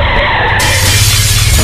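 A cartoon car reverses, restarts and rams forward into a group of demons, giving a loud crash with a shattering burst followed by a sustained skidding scrape over low engine rumble.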